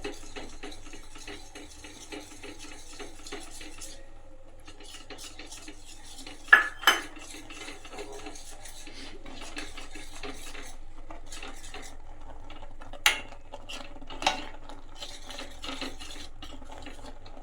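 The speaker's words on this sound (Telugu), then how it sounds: "మకానా పౌడర్ని యాడ్ చేసుకోవాలి. ఉండలు లేకుండా కలుపుకుంటూ ఉండాలి." Makhana powder is stirred into milk in a pot with a metal spoon: a quiet scraping swirl broken by a few sharp clinks against the pot's side, close up, no one speaking.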